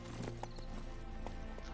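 Horse hooves clip-clop in The Witcher 3 video game, a handful of moderately loud hoofbeats in an uneven rhythm over a steady background hum, with a brief whinny-like sound and no clear talking.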